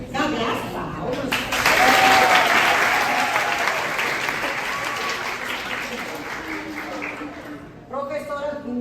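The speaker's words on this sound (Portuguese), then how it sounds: "Cadê as palmas?" A university audience applauds a teaching-internship professor at an inaugural lecture event, the clapping building loud and sustained for several seconds before fading, with voices and whoops mixed into the crowd noise.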